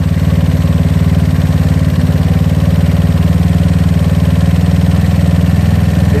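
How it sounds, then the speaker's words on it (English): A GY6 scooter engine fitted with an OKO PWK 30mm carburetor runs steadily and close by, a loud, continuous low throb that holds an even idle-like pitch without clear rev peaks. "Listen in for any kind of revving noise."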